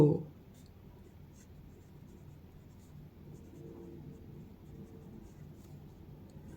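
A pen scratches steadily across paper while Chinese characters are written, a faint, continuous dry rasp close by with low background hum and no clear talk.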